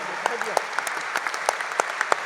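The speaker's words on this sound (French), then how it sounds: "j'aimerais qu'on fasse un triomphe d'applaudissements pour Loïc Quentin, président de la FNIM." Audience applause at a French housing-policy round table, heard as scattered, fairly sparse claps of moderate loudness with a few sharper hand strikes, as if from a modest crowd in a conference room.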